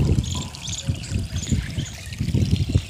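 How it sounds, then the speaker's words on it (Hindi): Water runs from a garden tap onto potted plants in the evening, a close, steady gushing trickle with a pulsing splashy rhythm throughout. "मैंने इधर पानी चालू कर दिया है"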